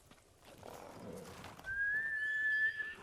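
A horse in Ghost of Tsushima gives a short whinny after a few soft hoof and rustling sounds, with a faint high whistle-like tone toward the end and no talk.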